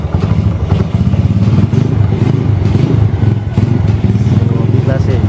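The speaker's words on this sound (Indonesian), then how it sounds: "untuk suara mesinnya kayak gini ya, kayak slip engine gitu" Yamaha Vega ZR motorcycle with a bored-up 135cc engine and Daytona throttle, revving continuously up close with a loud, busy mechanical clatter throughout.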